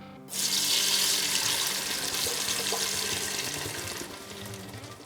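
Tap water runs steadily into a pot for Mexican meatball soup (caldo de albóndigas), a loud continuous splashing rush that begins abruptly and holds for several seconds, easing slightly toward the end.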